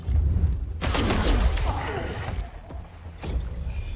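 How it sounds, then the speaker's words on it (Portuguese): Gunfire in the tactical game Miasma Chronicles: a sharp burst of shots with impacts and a brief crash, loud and close, followed by quieter game sounds and a later thump. "E aqui eu boto pra atirar."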